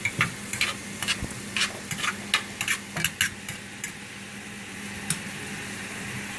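Cooked linguine going into a pan of shrimp scampi with reduced liquid: a steady soft sizzle with scattered clinks and taps of utensils against the pan, fairly close, no talk.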